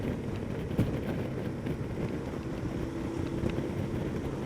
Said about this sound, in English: I know the wind is certainly blowing my head about a bit